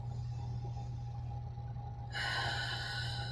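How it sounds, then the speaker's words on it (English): Deep breaths drawn in through the nose and released during a yoga class, a single slow soft inhale followed by a louder airy exhale, close and quiet with no talking. "Taking nice deep breaths in through the nose, side out. Nice big inhales and exhales."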